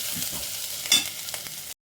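Tempering for village-style brinjal bajji sizzles in a pan: a soft, steady frying hiss with faint stirring scrapes and one brief sharper crackle, close and alone without speech.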